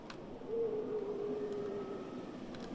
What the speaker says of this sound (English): I can hear an owl.